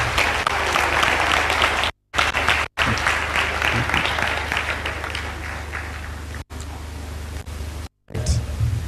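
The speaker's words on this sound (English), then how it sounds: "A round of applause." Audience applause at a sugar industry innovation symposium, a dense, sustained wash of clapping from a large crowd, loud and even with a few abrupt cuts.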